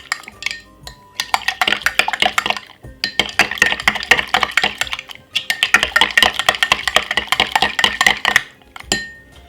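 A spoon stirring an apple cider vinegar drink with cinnamon in a glass, rapid close clinking and tapping in three bursts separated by brief pauses.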